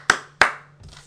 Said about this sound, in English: So we have to give him a huge round of applause.